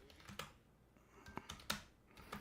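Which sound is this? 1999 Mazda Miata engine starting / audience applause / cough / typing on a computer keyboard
typing on a computer keyboard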